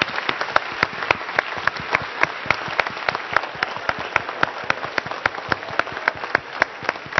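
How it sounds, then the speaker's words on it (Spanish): A crowd at a hackathon awards ceremony in Tijuana applauds the winners, a steady patter of many hands clapping with some sharp individual claps standing out, moderately loud throughout. "terminamos con un gran aplauso para todos los ganadores de Hackathon"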